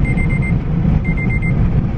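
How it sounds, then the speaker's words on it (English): A phone alarm sounds in two short bursts of repeated high electronic beeps, loud over steady crowd and background noise at a homecoming event in Kansas City. "what is that? An alarm is set for some reason."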